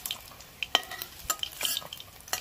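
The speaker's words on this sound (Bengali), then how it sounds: "এগুলোকে একটা একটা করে পুরো ভেজে নিচ্ছি।" Prawn kofta balls frying one by one in a pan of oil, a soft sizzle broken by sharp scrapes and clinks of a utensil turning them, close and fairly quiet, with no talking.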